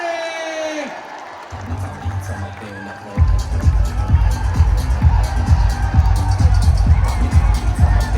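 A crowd cheers and whoops at a Dahi Handi festival, loud massed shouting and rhythmic clamour swelling up after a quieter opening, with voices talking close by.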